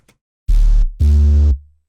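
Two loud, sustained bass-heavy synth hits from a drum and bass track without sidechain, each about half a second long, with a brief gap between them and a quick faint tick before.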